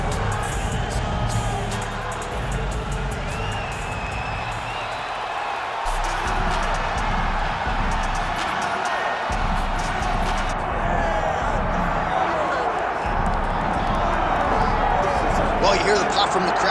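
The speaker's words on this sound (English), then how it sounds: "you hear the pop from the crowd, DC, as Nate Diaz gets set to make this walk" A large arena crowd in the UFC 5 video game roars and cheers continuously as a fighter makes his walk to the octagon, a dense, loud wash of noise with swells and bursts throughout.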